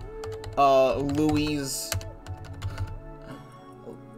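Keys clatter on a computer keyboard in quick, irregular taps while someone speaks over them and music plays in the background.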